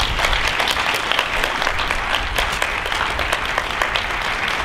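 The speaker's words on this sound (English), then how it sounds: "please join me in giving a round of applause to Daniel and Tanner" Audience applause at a Ride for Lyme event in Victoria, BC: dense, steady clapping from a crowd, sustained evenly throughout at moderate distance with no voices.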